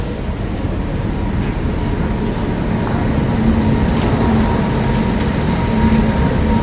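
Passenger train running on the Ratnagiri to Virar line through Konkan country, a loud continuous rumble and roar of wheels on rail heard from inside the coach, steady throughout with no talk.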